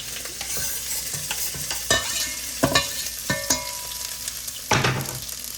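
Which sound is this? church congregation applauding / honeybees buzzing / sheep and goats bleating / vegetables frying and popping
vegetables frying and popping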